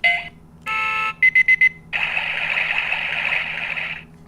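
An Oregon Scientific talking countdown timer plays its end-of-time electronic alert: a short tone, a longer buzz, four quick beeps, then a sustained loud warbling alarm, close and clear.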